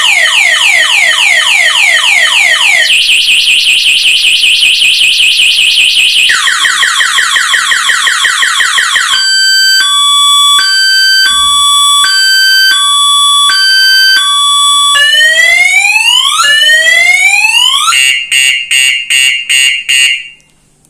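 A vehicle's central locking anti-theft alarm siren blares loud and close, cycling through rapid rising sweeps, steady wailing tones, pulsed beeps and warbling chirps for about twenty seconds before cutting off abruptly.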